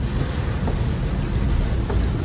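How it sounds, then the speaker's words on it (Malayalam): Heavy rain pours down around a vehicle stopped on a road near Palakkad after Coimbatore, a dense, continuous loud hiss and wash that stays constant throughout. "നല്ല മഴ കേട്ടാ നല്ല മഴ"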